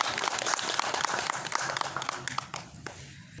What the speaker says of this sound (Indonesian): Bisa tepuk tangan buat beliau.